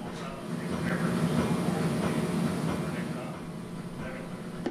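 Inside a Caltrain diesel passenger train pulling away, a broad, steady engine and wheel rumble swells and holds, with a muffled murmur in the carriage.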